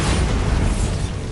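A Bombarda spell blast in the Hogwarts Legacy video game: a loud, dense, sustained explosive rumble with a heavy low end, filling the whole moment without talk.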